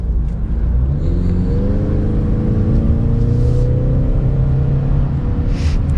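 A 2022 Ford Mustang EcoBoost accelerates out of a hard right-hand corner, its engine droning steadily with rising tone under constant road and wind noise, heard from inside the cabin.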